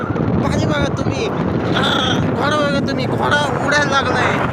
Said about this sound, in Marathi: रस्त्याला असला भयंकर पाऊस लागलाय. तुम्ही बघू शकता वादळी वारा येतोय.